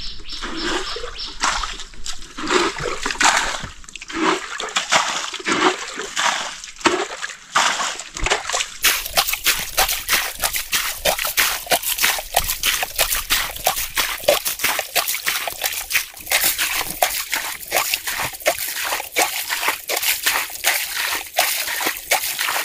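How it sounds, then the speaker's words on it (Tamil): Repeated water splashes and sloshing as water is bailed out of a village pond to catch fish, with rhythmic scooping and throwing continuing steadily throughout, close by and fairly loud. "நண்பர்களே பார்த்தீங்கன்னா இப்போ நாங்கள் அந்த தண்ணி வந்து இறச்சிக்கிட்டு இருக்கோம்"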